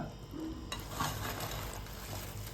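Fried bread pieces being stirred into sugar syrup for double ka meetha, a soft, quiet wet sizzle and gentle mixing with a faint scrape near the start.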